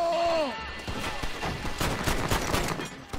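Rapid pistol gunfire from a repeater-like handgun in the Red Dead Redemption video game, a loud run of close shots cracking in quick succession over game ambience.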